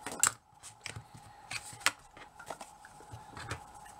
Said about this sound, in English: And then I'm just going to chop that off for now.